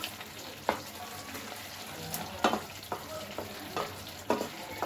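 Jaggery being stirred into tomato pickle as it cooks in a pan, soft bubbling sizzle under a handful of sharp, scattered scrapes and taps of the spoon, fairly quiet and close.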